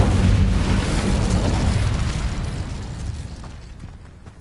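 An Incendio fire spell in Hogwarts Legacy goes off as one loud, rumbling blast that hits at once and trails away over about four seconds, heard on its own without talk.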